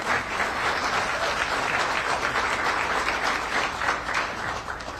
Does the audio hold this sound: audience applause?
yes